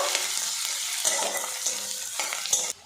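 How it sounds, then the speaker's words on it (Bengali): Small chopped onion fries in hot oil with a loud, close sizzle, broken by regular stirring scrapes about every half second and a clear cutoff at the end. "এবারে এর মধ্যে দিয়ে দেবো পেঁয়াজ কুচি একটা ছোট সাইজের পেঁয়াজ আমি ছোট করে কুচি নিয়েছি সেটা দিয়ে দিলাম পেঁয়াজটাও আমি ভেজে নেব"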